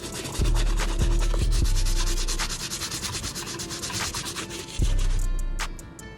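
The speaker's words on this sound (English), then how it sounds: "Starting with the soft bristle brush, we will use this to clean the uppers." Soft bristle brush scrubbing the uppers of Puma sneakers during cleaning, a loud, close, steady rasping scrub with rhythmic back-and-forth strokes and a few knocks, with no talking.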